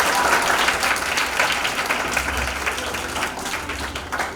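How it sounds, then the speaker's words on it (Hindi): Congregation at a church kids' convention giving loud, steady applause, many hands clapping together for several seconds at a fairly even level. "आपकी जोरदार तालियां"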